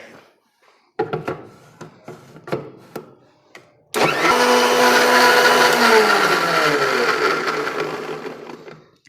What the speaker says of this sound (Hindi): चेक करिए आपकी आइसक्रीम अच्छे से ब्लेंड हो जानी चाहिए